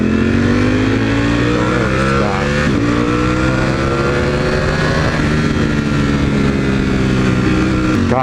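Motorcycle riding along a street, steady loud engine drone with gear-shift pitch steps and rising tones, heard close throughout.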